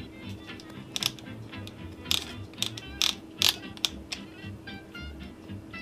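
A 50mm f/1.8 lens aperture ring turned to f/8 gives a string of small, close mechanical clicks, several sharp ticks spaced irregularly over a quiet background hum.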